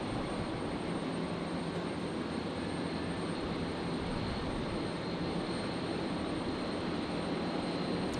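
A Jetstar jet airliner on its night takeoff roll on runway 01 Right at Brisbane Airport, a steady, distant engine roar that holds evenly throughout with no talk.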